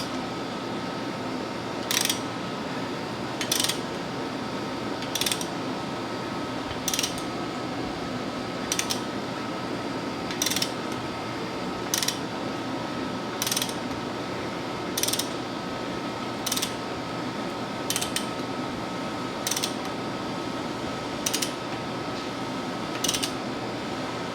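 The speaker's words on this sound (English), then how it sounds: "I'm going to rotate the crankshaft in the other direction until it stops on the piston stop on that side" A ratchet turns the crankshaft of a 4.6 engine toward a piston stop, giving evenly spaced clicks about every 1.7 seconds over a steady mechanical hum, close and clear with no talking.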